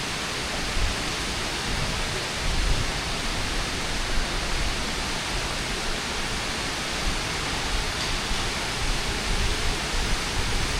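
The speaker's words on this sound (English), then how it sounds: "Nice indoor pool." Steady broadband wash of an indoor resort pool hall, a dense even hiss like running water and ventilation with no distinct events, humid echoing ambience.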